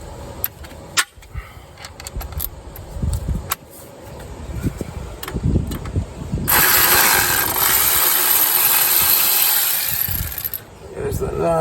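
An electric impact tool spins a wheel hub nut loose on a 2006 Buick Rendezvous, one loud sustained whirring burst of about four seconds following a few scattered metallic clanks and handling noises.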